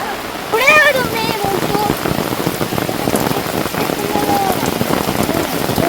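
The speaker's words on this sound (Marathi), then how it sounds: "पावसाने हजेरी लावलेली आहे" Steady rain pours down at a Ganpati festival display modeled on Kedarnath temple, with red soil washing into the water; a dense, even hiss of drops runs throughout, and a voice is heard briefly near the start.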